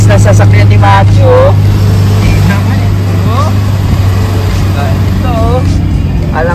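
A powerful vehicle's engine drones steadily as it climbs the long uphill road toward Mt Pulag, with a constant low hum from start to end while several people talk and exclaim over it inside the cabin.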